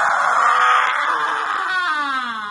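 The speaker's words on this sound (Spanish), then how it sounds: "¡No grites! ¡No grites!" A person screams during a church deliverance service, one long, loud, strained cry close by that bends downward in pitch toward the end.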